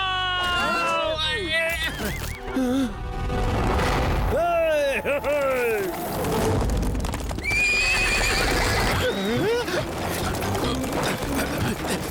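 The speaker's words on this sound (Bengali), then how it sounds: "ভেরি গুড শিবা, কেউ ঘোড়াগুলোকে থামাও।" Racing horses neighing loudly with repeated whinnies over the rapid clip-clop of galloping hooves, up close and intense, with voices and dramatic effects mixed underneath.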